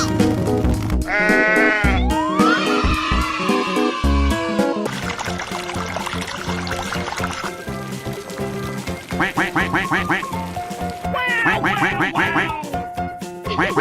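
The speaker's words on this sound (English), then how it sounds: "Sheep." Sheep bleating in a cartoon-style escape room game, wavering cries that repeat several times over bright game music, joined by quacking duck-like calls, loud and close.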